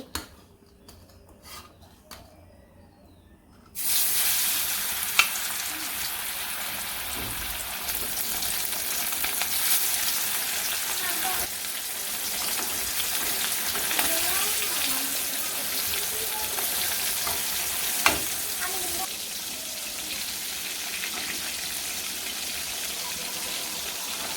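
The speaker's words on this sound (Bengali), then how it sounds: "তেল গরম হয়ে গেছে এখন মাছ দিয়ে দিই" Large fish frying in hot oil with turmeric powder: a loud, steady sizzle bursts in suddenly after a few quiet seconds and continues evenly, with faint clinks and stirring.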